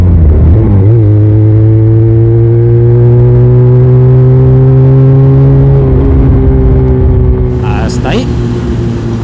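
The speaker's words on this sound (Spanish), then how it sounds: "¿Cómo suena esta moto dándole un sprint?" A Leonart Pilder 125 motorcycle exhaust pulls hard in a sprint, its engine note rising steadily and loudly before easing off, with a faint voice near the end.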